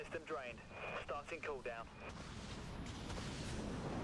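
A nuclear weapon detonates prematurely from a Zilant hero ship in the space combat game Dreadnought, a deep rumbling roar swelling after a man's speech and filling the last two seconds alone.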